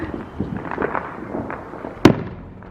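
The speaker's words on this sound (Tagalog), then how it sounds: "Back to back, side by side the fireworks dito guys." Fourth of July fireworks set off around a residential neighborhood in America: one sharp, loud bang near the end cuts through a steady low rumble of distant activity.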